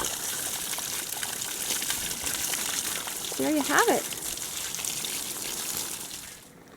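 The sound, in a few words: water draining from reclaimed-wood veggie washing table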